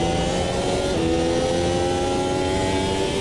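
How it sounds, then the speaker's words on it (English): A race car engine hums steadily at high revs throughout, loud and continuous with a slight pitch shift partway, like racing game audio from Automobilista 2, the car bouncing and grounding out. "it's bouncing like crazy, it's grounding out. It's affecting the revs."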